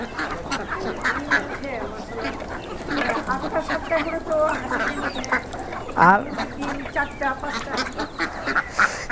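Poultry-farm ducks quack repeatedly while a flock of ducks and chickens feeds on leafy greens, the nasal calls close and overlapping in irregular bursts as someone talks over them.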